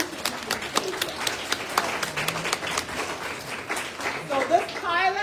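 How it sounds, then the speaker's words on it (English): Audience applause at a school board and community meeting, a dense spread of clapping that stays fairly loud and steady throughout with voices mixed in. "That deserves a hand clap because teachers need to be paid well."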